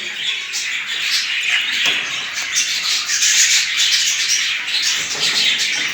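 Budgies gnaw on corn in their cage, giving a close, busy scratching and crunching mixed with frequent small squawks and chirps throughout.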